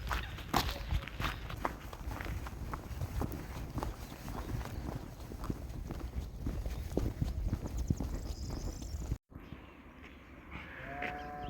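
Cows walk over ground outdoors near a carp-fishing spot, a steady run of hoof clops and shuffling steps close by, ending in a brief quieter stretch.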